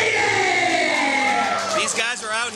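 A wrestling crowd roars and cheers for a team champion's entrance at an indoor show, loud sustained whooping and yelling with shrill voices rising over the din, close and dense throughout.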